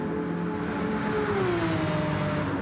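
A Porsche Gr.3 race car engine in a sim racing game at Dragon Trail drones steadily at high revs, its pitch sliding slightly downward midway, loud and continuous with no voices.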